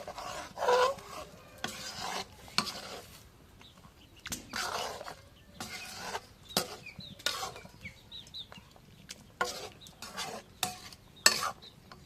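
Fish pieces and fish head stirred into a pot of potato curry, giving repeated short scraping and rasping strokes of a spoon against the pot with a soft sizzle underneath, close and moderately loud, without speech.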